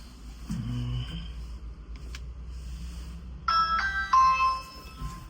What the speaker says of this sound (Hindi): बेल बजा के देखते हैं